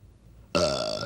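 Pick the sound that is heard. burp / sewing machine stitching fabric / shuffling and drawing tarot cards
burp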